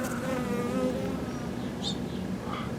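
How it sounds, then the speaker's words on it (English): Bees buzz steadily close by, a continuous droning hum with a few higher faint chirps in the background. "Look at the bees."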